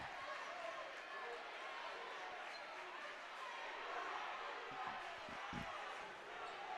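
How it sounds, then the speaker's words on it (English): A student cheering section in a high school basketball gym yells together in a dense, steady crowd roar that fills the space without pause, with a few sharp thumps near the end. "Kahawks and their student body cheering section doing the old "you can't do that" chant."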